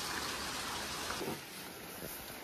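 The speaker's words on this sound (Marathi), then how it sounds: "पाऊस बघा कसं वाटता तो" Steady rain falling outdoors near a house with a sheet-metal roof and tiles, a continuous even wash of sound heard close, without talk.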